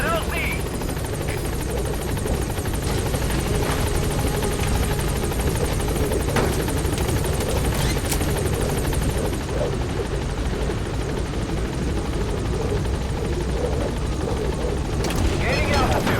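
The B-Quad support helicopter in Metal Gear Solid V keeps up a loud, continuous rotor roar and engine drone as it arrives at the landing zone, and radio chatter plays over the noise.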